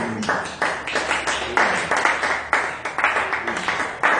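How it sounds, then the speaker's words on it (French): Congregation at a church service giving an acclamation, a dense burst of hand clapping with distinct sharp claps repeating in rhythmic waves, fairly close and filling the room. "Donnons une acclamation"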